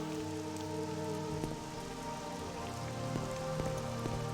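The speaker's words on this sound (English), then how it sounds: "Raining again, huh?" Steady rain pours down on the Gold Coast region of Morrowind's Project Tamriel, a dense, even wash of drops hitting surfaces that stays constant throughout beneath faint ambient game music, with no voices.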